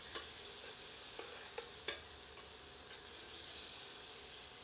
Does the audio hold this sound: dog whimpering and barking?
no